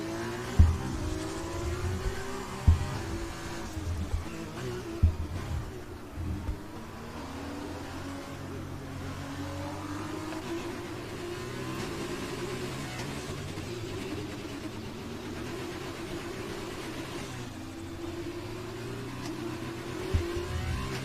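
Formula 2 race cars at the Singapore night circuit in a PC racing game, engines droning and shifting pitch continuously as several cars run close together, with a few sharp knocks early on.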